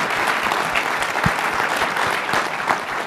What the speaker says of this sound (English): give a round of applause for the staff for that